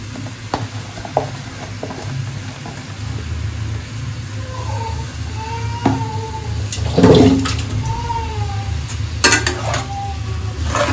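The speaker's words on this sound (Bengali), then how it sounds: "এবার চিকেনটা দিয়ে এটাকে একটুখানি কষাবো, কষিয়ে একটু ঢাকা দিয়ে দেবো" Chicken being added to a pan of vegetables and green chillies and fried, with steady close sizzling, a loud burst of hissing and scraping in the middle, and clattering utensil knocks against the pan.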